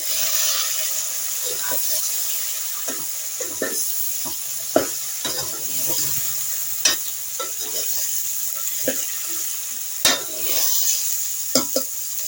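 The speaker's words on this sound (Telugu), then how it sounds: "గరిటతో తిప్పే బదులు అలా ఎగరేసుకుంటే మొత్తం మిక్స్ అవుతుందండి." Flat beans with onion and green chillies sizzle steadily in a pan for a curry as they are tossed, with repeated light clacks and soft thumps over the frying hiss.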